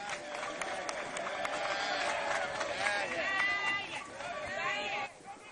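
Audience at a ceremony applauding for a deputy minister, a steady wash of clapping and crowd noise with voices mixed in, tapering off near the end.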